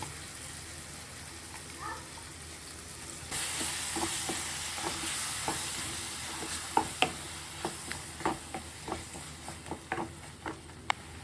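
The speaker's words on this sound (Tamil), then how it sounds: "இது வெங்காயம் தக்காளியோட ஒரு வதக்கு வதக்கிறது" Onion and tomato sauté in a pan, a soft sizzle that swells partway through, then a run of quick spoon taps and scrapes against the pan.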